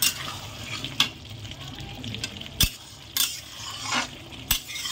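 Chicken fries with whole garlic cloves and onion in an open pot, a soft continuous sizzle broken by several sharp metal clanks and scrapes of a spoon stirring, close by.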